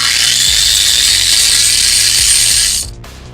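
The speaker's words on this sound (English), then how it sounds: "And then I'm ready to grind all the high spots down." An angle grinder works down high spots on the steel roof panel of a Monte Carlo, Impala, Lumina or Malibu during roof replacement, giving a loud, steady, close abrasive whine that runs continuously and then cuts off near the end.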